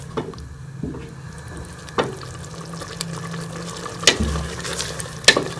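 Beef and yogurt with spices stir-fried in ghee over high heat for balti gosht, a steady low sizzle broken by several sharp utensil scrapes and clinks at irregular intervals.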